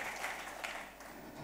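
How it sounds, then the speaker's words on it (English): Audience applause for the organizers of the IBCN 2019 conference business session, a steady, dense clapping from a crowd that fills the whole moment without talk over it. "So we should give a round of applause to the organizers of the IBCN."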